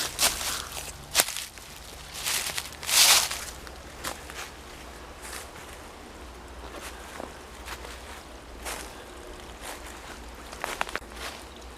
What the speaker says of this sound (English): But you'll still hear the dry leaves crunching under your feet.